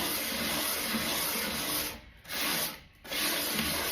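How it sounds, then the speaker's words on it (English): Steady abrasive rasping of hand sanding worked in small tight circles, loud and close, continuous with two brief pauses as the sanding lifts off the surface. "I'm sanding in like little miniature circles"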